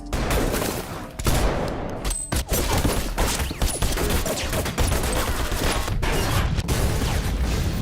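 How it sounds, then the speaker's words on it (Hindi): Loud, continuous gunfire from a movie shootout between rival gangsters, bursts of shots and rapid volleys packed densely across the whole stretch with brief gaps, no voices. "अब जैक और चाओस के बीच फायरिंग होने लगी।"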